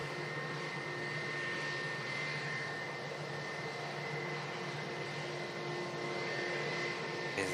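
An EasyJet airliner taxis at Manchester Airport, its jet engines giving a steady, loud, broadband roar with a faint whine held throughout, unbroken and without voices.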